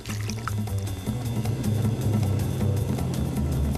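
Broth and dry white wine poured over tightly packed stuffed cabbage in a baking dish, a steady close splashing pour lasting a few seconds with no talk.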